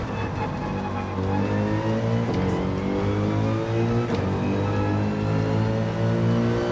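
A Toyota race car engine in Gran Turismo 7 drones steadily and rises in pitch under acceleration, with brief dips at two gear shifts.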